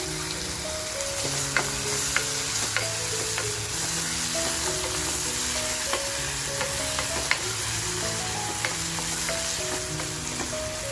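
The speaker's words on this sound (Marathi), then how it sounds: "आता जे आलं लसूण आणि मिरची आपण ठेचून घेतली आहे ते सुद्धा टाकून मस्त असं फ्राय करून घेऊया." Crushed ginger, garlic and green chilli fry in a pan with a constant, moderate sizzle and occasional stirring scrapes, set against continuous tuneful background music.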